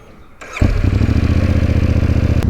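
A motorcycle engine fires up after a short pause and settles into a loud, steady, throbbing run close by as the rider pulls away, with a brief sharp click near the end.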